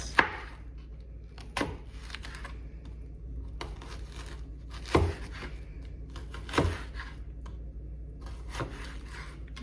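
A knife cuts through a meat joint being trimmed for curry, giving a few sharp, close chopping knocks spaced several seconds apart over faint background rustle. No one talks.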